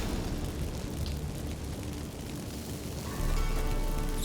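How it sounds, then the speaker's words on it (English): Magic fireworks set off by burning incense in The Witcher III, a steady crackling, roaring rush of sparks that swells louder near the end, with no voices over it. "Get ready for some magic fireworks."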